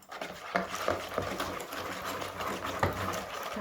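Steady, rhythmic scraping and knocking as quick yeast dough for garlic and dill breadsticks is stirred in a bowl, close by, with repeated strokes over a few seconds.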